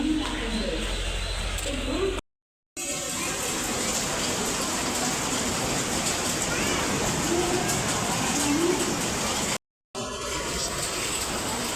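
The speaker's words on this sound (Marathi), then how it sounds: "पाऊस आला, आम्ही छत्री पण नाही आणला अजूनही." Steady hiss of rain falling outdoors near a beach with people talking and bird chirps here and there, cut by two brief silent gaps.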